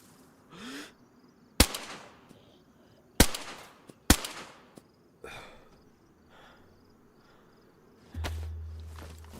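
Sharp AK rifle shots from DayZ crack out one at a time, four or five single reports spaced a second or two apart, each with a short echoing tail, fairly close and loud over quiet ambient background.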